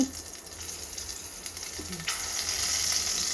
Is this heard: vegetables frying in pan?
yes